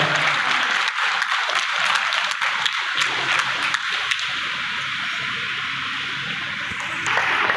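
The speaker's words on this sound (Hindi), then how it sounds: "लंबी चौड़ी तालियों के साथ उपस्थित अतिथियों का मान बढ़ाएं" Audience at a public meeting in a town hall for Ambedkar Jayanti gives sustained, dense applause, loud and steady throughout with no talk over it.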